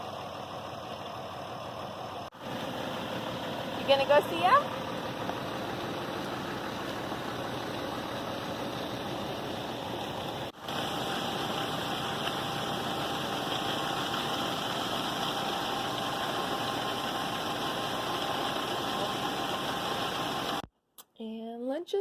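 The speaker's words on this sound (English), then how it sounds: "Are you watching the tractor?" A farm tractor engine idles steadily in an outdoor farmyard, a continuous mid-pitched rumble running throughout, with a brief interruption partway; a child's and adult's voices talk over it near the start.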